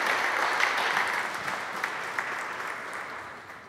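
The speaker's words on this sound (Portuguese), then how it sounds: "Dá uma salva de palmas para Jesus" A church congregation applauds together, a broad, even wash of clapping that holds steady and slowly tapers off, with no speech over it.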